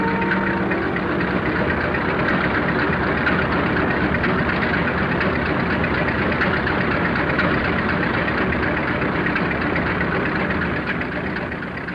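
A diesel locomotive engine idles in a steady, loud, continuous rumble with a dense low throb that holds unchanged throughout, with no voices.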